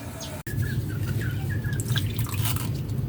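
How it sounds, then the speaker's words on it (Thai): Sweet potatoes being washed in water, with splashing and trickling under a steady low rumble, and faint bird chirps in the background. "ทุกคนเดี๋ยวเรานำมันมาล้างกันก่อน"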